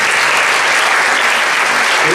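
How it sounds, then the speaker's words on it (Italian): Steady, dense applause from a crowd at an awards evening fills the whole stretch, loud and continuous without a break. "un applauso di benvenuto"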